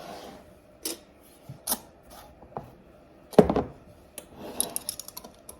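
Metal rings are finger-tightened onto hot glass canning jars of salsa verde, giving sparse, close clicks and short scraping twists separated by pauses.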